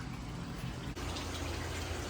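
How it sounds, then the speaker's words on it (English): Water from a pond siphon runs into a bucket outdoors, making a steady, close splashing rush that continues without a break for about two seconds. "The siphon is still working."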